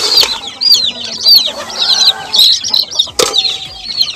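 Hungry chicks peep and chickens cluck close by at feeding time on a farm, with wing flaps and a few scratchy bursts amid the busy chatter.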